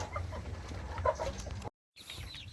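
Free-range village chickens clucking in an avocado garden, soft scattered clucks over a low rumbling background, briefly cut to silence before faint calls resume.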